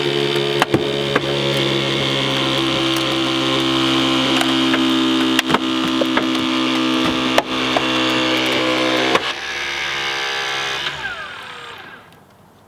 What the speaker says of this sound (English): I can take the Genesis E-Force ram and turn it outwards, making this much more room for patient access